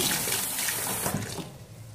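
Tap water gushes directly through pork intestines to rinse them, a loud, steady splashing stream that thins and quiets near the end, with no talking.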